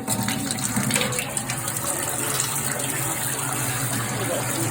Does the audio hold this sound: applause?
no